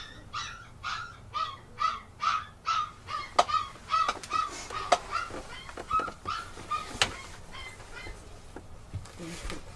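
Young puppies in a corner of an indoor hallway near a chained, skinny mother dog give a run of high, repeated yelps and whimpers in quick bursts, fairly close, with no talk over them.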